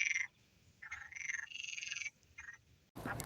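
Frogs croaking at a breeding pond holding frog spawn in Sagres, Portugal: overlapping rapid purring trills in bursts, fairly close and clear, with no talking.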